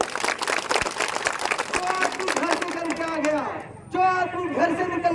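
A rally crowd claps for itself after a stirring political speech in Gopalgarh, steady applause mixed with shouting and chatter, then a voice rises over the noise near the end.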